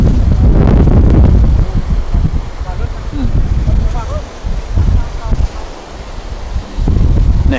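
Wind gusting through trees before a rainstorm, a loud broadband roar with buffeting against the microphone, easing midway and surging again at the end, while people talk over it.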